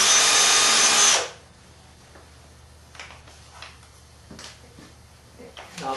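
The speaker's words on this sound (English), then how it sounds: "drill a hole through here as far as I can get out on the edge" A power drill bores a hole through a wooden Longworth chuck, a loud close high whir lasting just over a second before stopping abruptly, followed by quiet handling clicks and light knocks.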